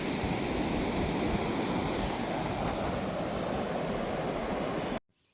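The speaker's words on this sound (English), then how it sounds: "I'll put a little video clip in of the beautiful ocean." Ocean waves at a beach wash in a loud, continuous roar of surf with some wind buffeting, steady for about five seconds before cutting off abruptly.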